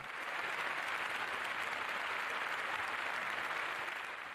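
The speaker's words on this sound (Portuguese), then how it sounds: "houve um caloroso aplauso quando o Sultan Al-Jaber, presidente da COP28, o anunciou." Warm, sustained applause from a large audience at the COP28 climate summit as the final agreement is announced, dense and even with no pauses throughout.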